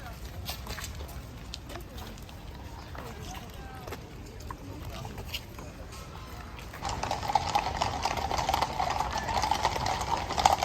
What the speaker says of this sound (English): they'll all come and go into their temporary stabling where those 2 horses are going now